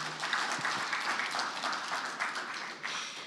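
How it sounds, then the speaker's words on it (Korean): A hall audience at a history and culture speech contest gives sustained applause after a student's speech, an even, moderately loud patter of many hands with no voices standing out. "다시 한번 큰 박수 부탁드립니다"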